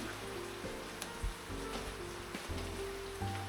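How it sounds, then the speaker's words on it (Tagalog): Heavy rain pours down in a steady, dense hiss, with low rumbling background tones underneath. "Napakalakas na ng ulan."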